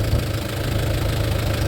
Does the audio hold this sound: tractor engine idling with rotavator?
yes